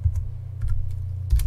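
Quick clatter of keys on a computer keyboard while installing Kubuntu 13.04 Linux, a handful of close, uneven taps over a low steady hum, with no talking.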